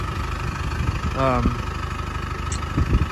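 A diesel truck engine idles steadily at close range while warming up, a low continuous rumble with a brief rising tone partway through.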